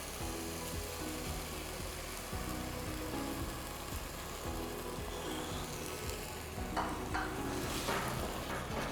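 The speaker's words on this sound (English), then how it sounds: "Now as the onion paste goes dry, I'll add a little bit of yogurt." Yogurt added to drying onion paste in a pan for a Bengali prawn malai curry, sizzling steadily while a utensil scrapes and stirs in repeated strokes, close and continuous with no talk.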